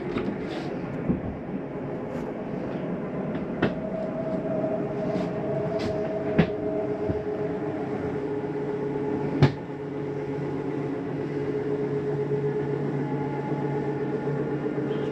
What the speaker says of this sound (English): I'm going to run our slide out